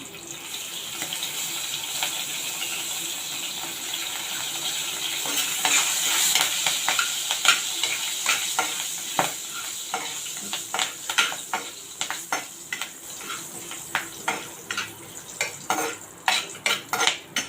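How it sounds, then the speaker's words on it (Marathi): Cumin, asafoetida and curry leaves sizzle in hot oil in a pan, a steady hiss rising then giving way to repeated sharp scrapes and taps of a spoon stirring, close and without talk. "कढीपत्ता चांगला परतून झालेला आहे"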